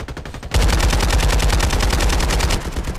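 Rapid automatic gunfire rattles in a fast, steady stream of loud shots, with a quieter burst at the start.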